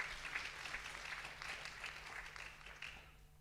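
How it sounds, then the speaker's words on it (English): Audience at a conference panel discussion applauding a speaker, a faint, steady patter of clapping hands from a distance lasting a few seconds, without voices over it. "If you'd like to give him an applause,"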